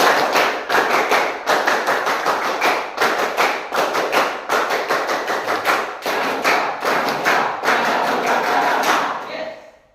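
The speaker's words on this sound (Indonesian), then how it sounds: "3 kali tepuk pramuka." Three rounds of the scout clap, tepuk pramuka, come from a class of scout pupils: sustained loud, fast patterned clapping with brief gaps between rounds, ending abruptly.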